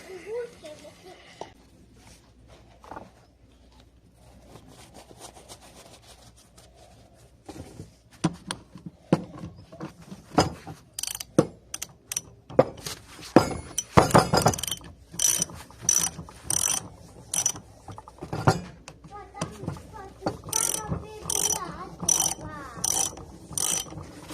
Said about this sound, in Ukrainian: Зараз відкручуємо ці три болти.